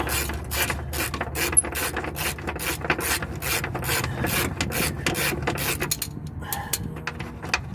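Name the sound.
ratchet wrench loosening a bolt on a Honda Civic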